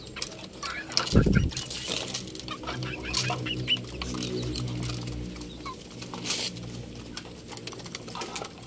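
Chickens cluck and murmur close by as they are fed on a rainy day, with a sudden flurry of wings or movement near the start and occasional soft sounds from pigeons.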